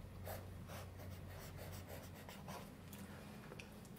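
Silver-blue Pelikan Pelikano school fountain pen nib scratching softly across paper in short rhythmic strokes, quiet and close.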